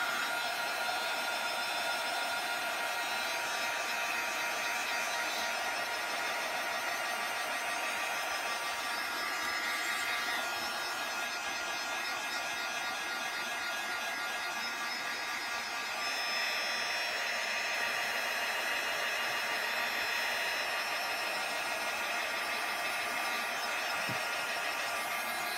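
A hair dryer blows steadily and loudly the whole time, drying a freshly worked journal page with a constant broadband whoosh that never pauses.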